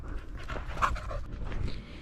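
A working dog panting steadily outdoors on a morning walk, close and fairly quiet, with rhythmic breathy huffs over faint background rustle.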